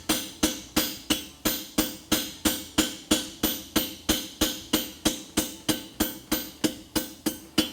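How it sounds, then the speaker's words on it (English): Steady, evenly spaced hammer blows ring out one after another, about three per second, sharp metallic strikes on hot steel at close range, forging a scarf on a horseshoe bar. "I'm just going to take the edge of my hammer and put a scarf right there."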